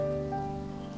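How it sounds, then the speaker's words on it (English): Rain falls steadily in the video game Golden Treasure, a soft even patter behind a constant tonal background hum, lasting only a moment with no voices. "And the rain is just falling."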